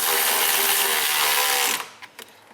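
A ratchet snugging up a bolt on a Jeep Grand Cherokee cooling fan, a close, fast run of clicks that ends abruptly, followed by a few light metallic taps.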